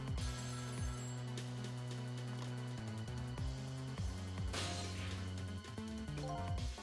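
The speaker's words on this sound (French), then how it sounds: "c'est un téléphone qui sonne" A telephone rings inside the video game Ghost Trick, its repeated bell tones sitting over a steady bed of game music with a few sharp hits along the way.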